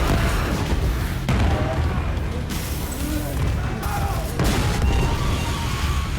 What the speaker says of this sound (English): the entire front of the submarine was ripped open by a second massive explosion